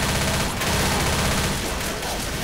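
A pistol fires in the zombie shooter game Left 4 Dead: loud, dense, rapid gunfire that continues almost without pause across the whole stretch.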